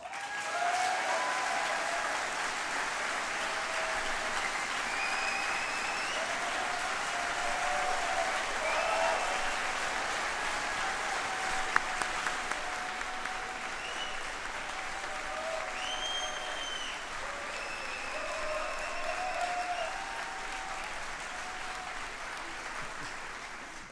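Sustained applause from a large crowd of delegates at a Parti Québécois congress, steady and dense throughout, with a few faint voices and whistles rising above the clapping.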